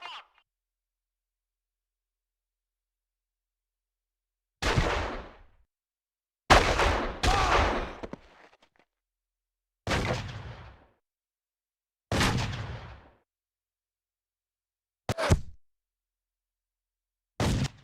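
FBI sniper gunfire in the Made Man video game, about seven heavy booming shots spaced irregularly across near silence, each with a short rumbling tail.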